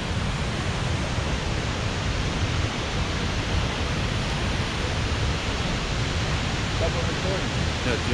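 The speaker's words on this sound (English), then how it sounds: "That beautiful creek." A mountain creek rushes steadily along a hiking trail, its broadband water noise holding constant and fairly loud from start to finish with no break or swell.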